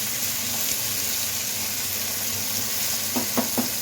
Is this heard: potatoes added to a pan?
yes